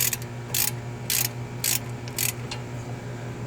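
A ratchet wrench tightens bolts on the driver's side CV axle of a 2013 Chevrolet Malibu in four short, evenly spaced bursts of clicking over a faint steady background hum.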